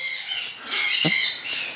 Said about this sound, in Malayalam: ഇങ്ങനെ ഒരു ശബ്ദമൊക്കെ ഉണ്ടായിക്കൊണ്ടിരിക്കും കൂ കൂ എന്നൊക്കെ പറഞ്ഞൊരു ശബ്ദം ഉണ്ടാക്കുന്നുണ്ടോ